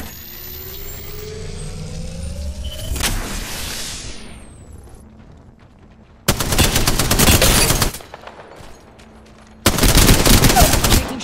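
Two long bursts of automatic gunfire in Apex Legends, loud and close, each lasting a second or two, follow a whooshing sweep and a quieter stretch with no speech.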